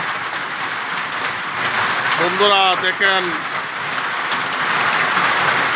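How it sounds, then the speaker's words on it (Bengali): A heavy early-morning hailstorm in Bangladesh pours down around 6 a.m., a loud, dense, unbroken roar of falling ice and rain, with someone speaking briefly over it. "শিলাবৃষ্টি হচ্ছে শিলাবৃষ্টি সকাল ছয়টা বাজে প্রচুর শিলাবৃষ্টি হচ্ছে"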